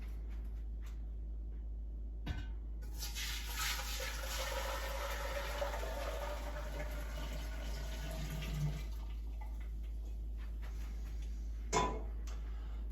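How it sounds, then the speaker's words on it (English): Steeped tea for a kombucha batch pours steadily into a clean jar, a continuous liquid gush of several seconds that trickles off near the end, with a couple of sharp clinks from the vessel. "And then we'll pour them into our clean jar."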